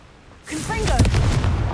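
A Confringo spell blast in Hogwarts Legacy erupts as a single loud, close boom with a crackling, rumbling tail, while a voice speaks over it.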